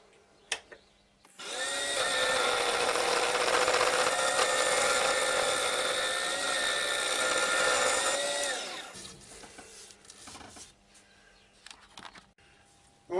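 A scraper cuts a small ash bowl spinning on a lathe, a loud steady whirring scrape running for about seven seconds before it stops, leaving quiet workshop handling noises.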